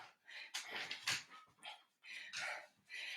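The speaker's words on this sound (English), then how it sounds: "Are you barking at me?" Short barks and whimpering from a dog in a home workout space, several bursts close to the microphone with brief gaps between them.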